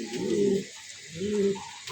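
Spangle pigeons coo in two close, mellow rolling bursts with a pause between, no talking.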